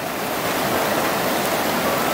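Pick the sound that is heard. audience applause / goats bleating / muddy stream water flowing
muddy stream water flowing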